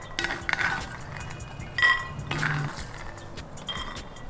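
Roasted peanuts tipped from a kadai onto a plate make a few quick clinks and rattling taps, close and light, in short separate bursts.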